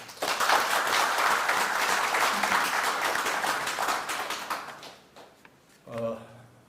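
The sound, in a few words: audience applause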